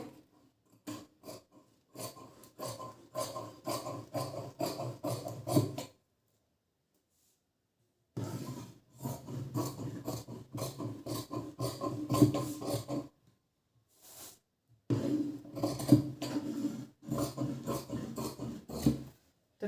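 Blouse fabric being cut with scissors, rapid rhythmic snipping in three bursts separated by short pauses, close and fairly crisp.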